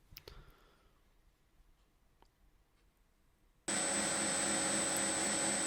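A grinder bites into a knife's tapered tang, starting abruptly partway through as a loud, steady, high-pitched whine after a stretch of quiet clicks and shuffling.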